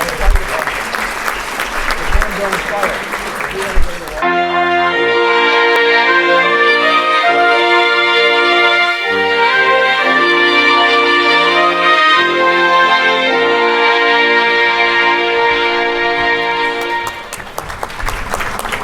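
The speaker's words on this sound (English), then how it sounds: "give yourselves a big round of applause" Loud, sustained applause from an audience at a youth sports volunteer recognition breakfast in Cambridge, filling the room for about thirteen seconds and cut by brief talk at the start and end.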